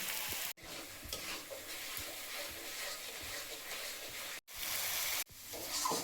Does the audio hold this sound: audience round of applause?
no